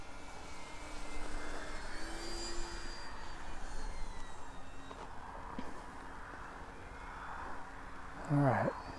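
A Turbo Timber Evolution RC airplane flies overhead on takeoff, its electric motor a steady droning whine that rises and falls gently as it passes, with a short louder burst near the end.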